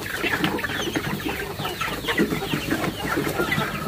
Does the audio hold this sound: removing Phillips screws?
no